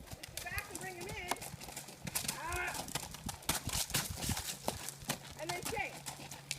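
Hooves of Mr Kippling, a cheeky horse, clop in quick uneven steps as he backs up and turns, close by and continuous, mixed with voices talking and higher tonal calls.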